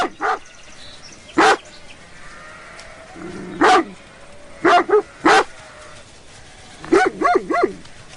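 Herding sheepdogs barking around a moving flock, several sharp, separate barks spaced over a few seconds, with a rapid cluster of barks near the end and a faint bleat between them.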